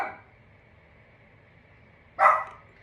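A pet dog gives a single loud, close bark near the end, after a quiet stretch with a faint whimpering tail at the start.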